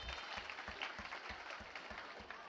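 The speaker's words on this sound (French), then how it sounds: "Est-ce qu'on peut applaudir pour ces deux personnes-là?" School audience at a lycée in Banfora applauding two guests, a quiet, steady patter of many hands with rhythmic, louder claps standing out at regular beats.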